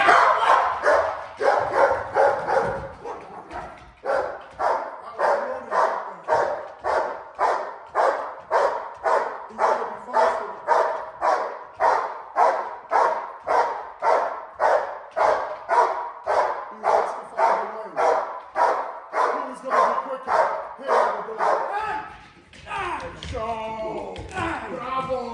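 Rapid, relentless barking from a Malinois or German Shepherd protection dog during a hold-and-bark exercise against a knife-wielding decoy, loud and close in a steady rhythm for about twenty seconds, then breaking up near the end.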